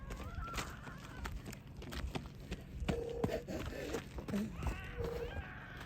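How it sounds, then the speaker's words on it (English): Chickens cluck and call intermittently at close range, with short honking notes and footsteps shuffling on the ground throughout. "but there's chickens out and she'll eat them."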